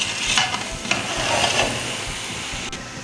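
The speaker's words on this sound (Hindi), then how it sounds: "अब हम इसको मिक्स कर लेते हैं।" Rice being mixed in a pot over low heat for wedding-style zarda, with close scraping and clinking spoon strokes in an irregular rhythm over a soft background hiss.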